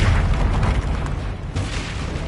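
The Confringo fire spell detonates in Hogwarts Legacy with a loud, sustained rumbling blast that roars without pause throughout.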